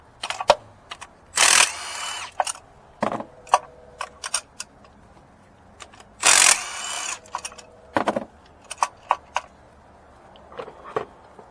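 A ratchet fitted with a 5/8 spark plug socket works the spark plugs out of a 9th generation Mitsubishi Lancer. It gives repeated bursts of close, dry clicking, with scattered ticks and clunks in between.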